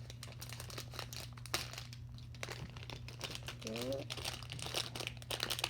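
Plastic packaging of a squishy toy crinkles and rustles in bursts as it is opened, close and moderately loud, with a continuous low hum underneath and a person speaking briefly.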